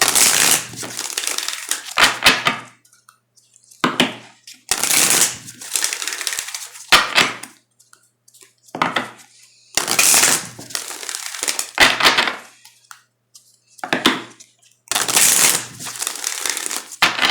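A deck of oracle cards is shuffled in repeated crisp, papery bursts of one to two seconds, separated by short silences, close and fairly loud with no talking.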